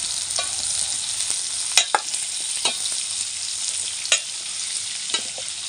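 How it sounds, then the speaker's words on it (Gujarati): Stuffed kantola, spiny gourd, being gently turned in a pan with garlic, a soft steady sizzle punctuated by several sharp scrapes and clinks of the spatula, close up. "આ રીતના ધીમે હળવ્યા છે આપણે ફેરવવા જોઈએ"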